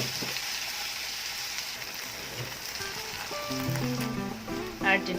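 Onions hit hot oil with bay leaf and a cinnamon stick for an Andhra-style mutton masala curry, giving a soft, continuous sizzle with a few brighter crackles near the end.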